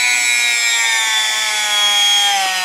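A Singer 66 class sewing machine runs steadily and rather noisily, a continuous mechanical whir with a high, whining hum that holds for the whole stretch without pause.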